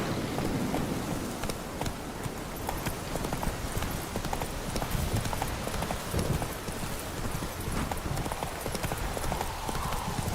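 Horse hooves clip-clop in a steady galloping rhythm while riding in the video game Witcher 3, continuous and fairly loud over a rain-like game ambience.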